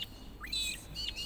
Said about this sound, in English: Magpie larks, that noise.